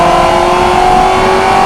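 A modified 2017 Ford GT350 drives slowly on a wet race track at Circuit of the Americas in the rain. Its engine holds a loud, steady, close-up drone with no voices.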